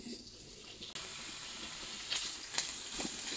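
Mushrooms sautéing in oil over high heat, a soft steady sizzle that jumps louder partway through, with a few brief crackles and scraping touches, fairly quiet and without talk.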